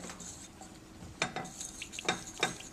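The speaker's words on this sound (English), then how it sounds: "Okay, I'm going to stir that up a little bit." Cocoa butter being stirred as it melts in a pot for homemade lip balm, with a few distinct scrapes and clinks of the utensil against the pot over a low background hiss, fairly close.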